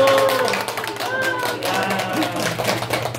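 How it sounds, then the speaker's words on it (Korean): Audience clapping at a church event in Busan, a steady spread of many hands applauding at close to medium range, with murmured crowd voices mixed in throughout. "박수!"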